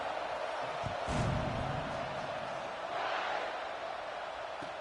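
Stadium crowd roar in the College Football 26 video game, a broad steady wash of cheering and noise that swells briefly near the start and again midway, continuous throughout with no clear speech.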